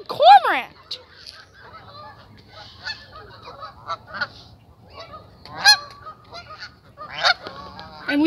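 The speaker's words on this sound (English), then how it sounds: "that stupid male over here is honking to warn danger" Geese honk repeatedly outdoors, with loud harsh calls near the start and again around the middle and end, separated by quieter stretches of softer honks and faint bird sounds.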